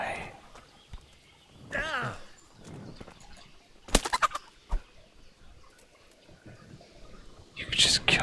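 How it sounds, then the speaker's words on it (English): Chickens cluck in the medieval game Kingdom Come: Deliverance, in soft scattered bursts with a louder squawk near the end, under a quiet whispering voice. "You could just kill chickens in the streets, and nobody cares."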